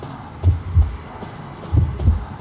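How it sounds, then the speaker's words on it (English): Two pairs of deep, throbbing double heartbeats pulse in the Identity V video game, warning that the hunter is near, low and muffled over a faint background hum. "the heartbeat tells you how close you are relative to the hunter"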